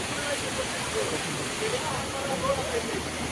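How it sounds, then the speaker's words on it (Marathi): Water gushes out of the exhaust silencer of a scooter flooded in a PCMC street flood. It makes a steady, rushing splash that runs throughout, with faint voices talking over it. "किती पाणी निघतं बघा सायलेन्सर मधनं."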